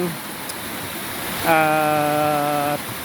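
Water from a small waterfall pours steadily into a clear stream beside a farm, a continuous rushing wash, with a brief tonal voice rising over it midway.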